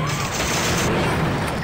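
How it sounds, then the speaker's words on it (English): Explosions and gunfire-like blasts in the video game Miami Shark, a dense, loud, continuous barrage of booms and crashes filling the whole moment with no pause. "Explosions."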